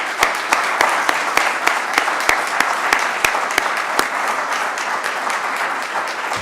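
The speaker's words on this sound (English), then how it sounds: "I think we should give them all another round of applause." Audience applause at a college alumni lecture event, sustained clapping with a few sharp, distinct claps standing out through the steady wash.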